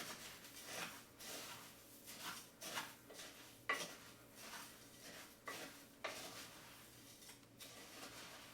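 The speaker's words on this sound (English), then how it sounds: "we're going to stir that and toast our cornflakes." Cornflakes being stirred and toasted in a pan, faint repeated scraping and rustling strokes in an irregular rhythm, with occasional light clinks of a utensil against the pan.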